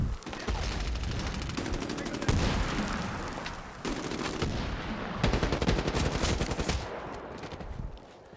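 Loud bursts of automatic gunfire and explosions in the online shooter Medal of Honor Warfighter come in several sustained volleys with brief breaks between them, and a voice is faintly mixed in.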